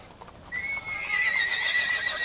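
A horse at a rodeo lets out one drawn-out, rising whinny that starts close and clear, with a few soft hoof clops underneath and no talking.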